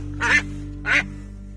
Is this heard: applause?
no